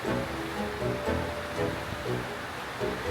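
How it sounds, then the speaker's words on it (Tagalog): Strong wind roars steadily, gusting and buffeting in waves of rushing noise close by. "Ang lakas ng hangin."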